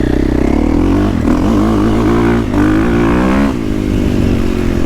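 A stock 2023 KTM 450SXF motocross bike engine revs hard and continuously, its pitch rising and falling through several throttle blips, loud and close with no talk.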